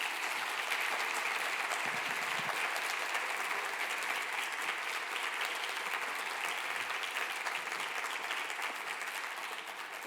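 Sustained audience applause at a conference as keynote speaker Joan Rosenhauer is welcomed, a dense steady clapping from a large indoor crowd lasting the whole stretch and fading slightly at the end.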